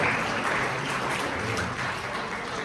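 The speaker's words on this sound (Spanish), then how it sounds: "otro aplauso para mi brillante alumno" Audience applause in a lecture setting is a dense, even clatter of clapping at moderate volume that tapers slightly toward the end, with no voices heard.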